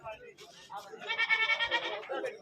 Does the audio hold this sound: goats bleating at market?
yes